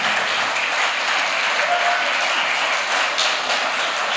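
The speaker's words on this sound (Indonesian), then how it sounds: "Anak-anak bagi tepukan yang gemuruh kepada ibu kamu" Thunderous applause from a church congregation honouring mothers at a sermon on a mother's love, a steady dense wash of clapping filling the whole moment without a break.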